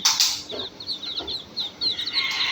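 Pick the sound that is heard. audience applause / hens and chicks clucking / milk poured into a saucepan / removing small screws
hens and chicks clucking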